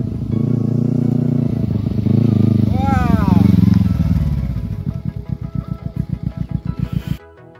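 A motorcycle engine drones loudly and steadily up close during a ride, then drops to a rapid, rhythmic idling putter near the end before cutting off.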